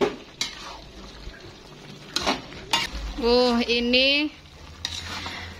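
Capcay stir-fry with tomato sauce being stirred in a pan, with scraping spatula strokes and soft sizzling, interrupted midway by a brief voice speaking over the cooking.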